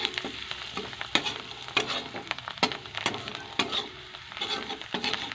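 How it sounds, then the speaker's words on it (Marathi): Onions fried reddish-brown with turmeric and coriander are stirred in a pan, a continuous sizzle broken by repeated sharp scrapes and knocks of the spoon against the pan at an uneven rhythm, close and alone without talk. "कांदा आपला लालसर भाजलाय, आता ह्याच्यामध्ये आपल्याला टाकायची हळद, कोथिंबीर, हे हलवून घ्यायचं चांगलं"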